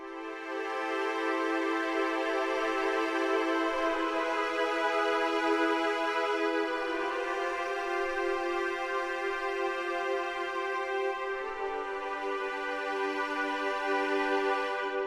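Spitfire Audio Hans Zimmer Strings sample library playing long violas on the wide microphone position: sustained, layered bowed chords held steadily and loud for about fifteen seconds, with one smooth change of harmony near the end and no voices.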